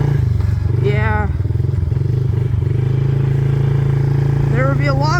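A Yamaha dirt bike engine runs steadily and loudly throughout while being ridden, with a constant low drone and brief rising revs, and a person talks over it.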